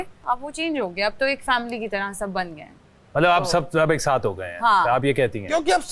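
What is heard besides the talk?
None of the usual background noises is heard.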